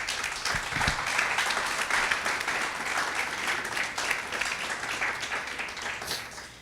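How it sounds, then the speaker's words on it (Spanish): A congregation at a Spanish-language church service claps steadily for the Lord, a dense, sustained round of many hands that stays fairly even for several seconds before thinning slightly at the end. "Dele un aplauso al Señor."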